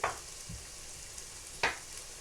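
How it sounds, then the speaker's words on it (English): Meatball stew ingredients hiss and sizzle in a pot as they are stirred. The sizzle is soft and steady, with a couple of brief scraping clinks from the spoon. No talk. "I'm trying to keep stirring this around so everything gets contact with the bottom"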